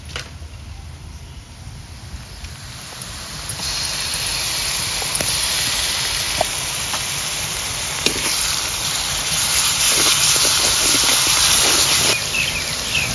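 Garlic paste hits hot oil with onions fried until reddish, setting off a loud steady hissing sizzle that swells partway through and keeps going, with faint clicks of stirring.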